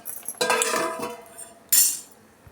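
A plate is set over a pot of boiling water while making shavige bath, giving two sharp metallic clatters of steel kitchenware on a quiet kitchen background.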